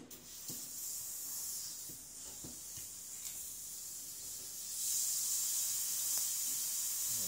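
Air hissing steadily out of the bleed valve of a hot water radiator, a continuous close hiss that grows louder and brighter in its last few seconds, with no talking.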